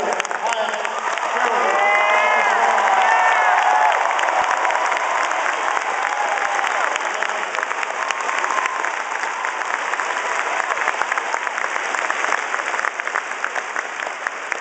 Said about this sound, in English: Please give a huge round of applause to Teresa.